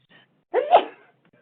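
A single sharp sneeze bursts out in a meeting room during a talk on insurance underwriting, close and fairly loud, with near silence on either side.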